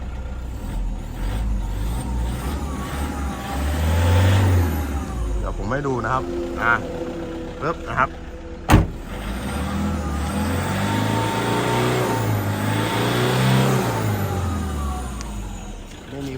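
A 2011 Toyota Vigo Smart Cab 2.5 pickup engine idles and is revved several times, rising and falling in loud close swells, with someone talking over it.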